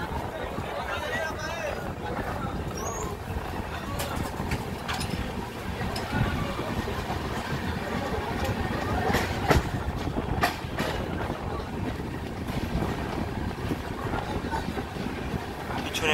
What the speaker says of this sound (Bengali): এত সুন্দর না কালিকট রেলওয়ে স্টেশনটা